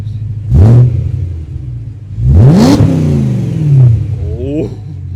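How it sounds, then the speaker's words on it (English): A BMW M3 engine gives two sharp revs close by, each rising quickly then falling away, with a shorter blip near the end. "Listen to that thing purr. Small revs."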